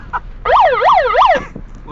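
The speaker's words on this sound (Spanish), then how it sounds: "ponen la sirena y la peña se esconde" A police-style siren blared through a megaphone: a loud, close wail rising and falling about three times in quick cycles, then cutting off abruptly.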